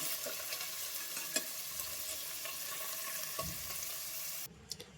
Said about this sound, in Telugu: ఇంకా కొంచెం ఫ్రై అయితే సరిపోతుంది, బాగా ఫ్రై కావద్దు